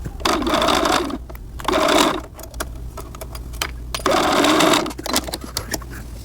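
A sewing machine runs along the side seams of a pair of shorts in three short, loud bursts of fast stitching, with clicks and fabric handling between runs.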